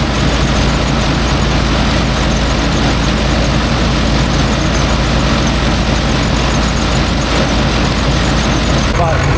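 Tractor engine running steadily beside a silage blower while the wagon is positioned, a loud constant low droning rumble throughout with broadband machine noise and voices talking over it.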